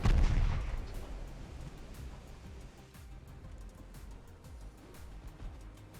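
Naval guns fire high-explosive shells in an Ultimate Admiral Dreadnoughts battle set in 1906: a heavy opening blast, then a rumbling stretch of distant, scattered gunfire booms under a steady wash of background noise.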